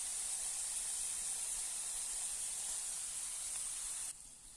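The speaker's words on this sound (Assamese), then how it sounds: "অকণমান এনেকৈ লৰাই লৰাই ভাজি দিব।" A pineapple pickle mixture, seasoned with salt, sizzles and hisses steadily as it is stirred and fried in a pan, a close, bright frying sound that drops off sharply near the end.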